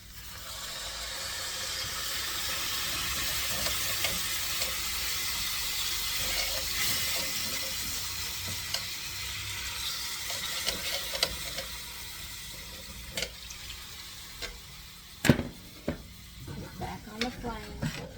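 Wine poured into a hot pan for chicken marsala gives a long hiss and sizzle that slowly fades, followed by scattered clinks and scrapes of the pan near the end.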